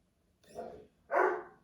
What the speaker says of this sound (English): There's my dog barking in the background.